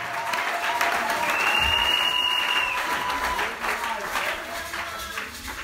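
A church congregation applauds in a loud, sustained burst of clapping, with a voice speaking over the crowd.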